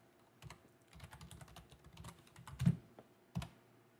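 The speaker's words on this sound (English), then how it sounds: "Let us type" Typing on a computer keyboard while entering an equation in a LaTeX editor, with irregular clusters of soft clicks and a few louder key strikes over about four seconds, close and alone.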